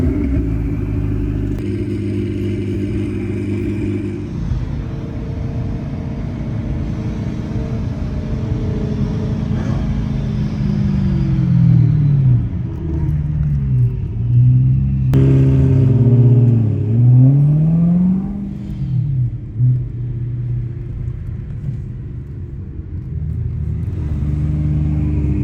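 A Ferrari race car drifting near the Eiffel Tower in Paris, its engine rumbling and revving loudly with rapid rises and falls in pitch, sustained over a long stretch.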